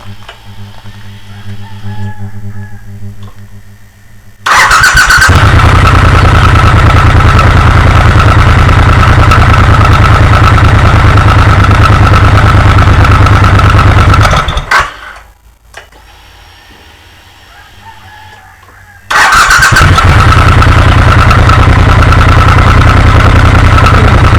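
A Triumph T120 motorcycle engine starts with a burst and settles into a loud, steady idle, cuts out briefly to a low rumble, then fires up again and keeps running close by.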